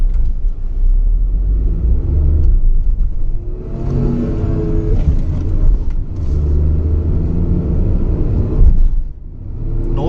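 Tata Nexon car being driven over a series of speed breakers: a steady, loud engine rumble with interior road noise and brief accelerating swells, heard from inside the cabin without talk.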